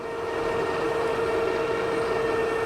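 A steady electric bike motor whine holds a constant pitch over a rushing, windy rumble while accelerating, fairly loud and unchanging throughout.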